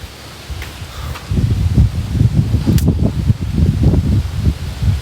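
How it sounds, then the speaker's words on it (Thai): Strong gusts of early cool-season wind rustle leaves in a home orchard garden in Chanthaburi, Thailand, at dusk, rising after a quieter start into loud, rushing, uneven waves with a low buffeting rumble. "ลมแรงเข้าหน้าหนาวแล้ว"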